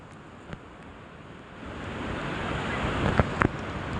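Strong seaside wind and crashing surf during Typhoon Inday roar as a steady, close, broadband wash that swells louder midway, with a few sharp gusts buffeting the microphone.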